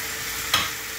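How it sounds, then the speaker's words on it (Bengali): Garlic drops into hot oil with turmeric in a pan for a curry, giving a brief sharp burst of sizzling over a steady low frying hiss. "এবার এরপরে দেবো হচ্ছে রসুন।"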